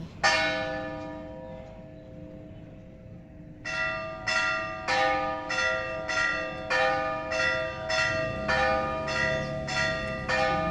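An old church bell, in a church condemned since the 1990 earthquake, tolls steadily and loudly with rich ringing overtones. After a brief pause, a run of evenly spaced strikes follows, each one sustaining into the next.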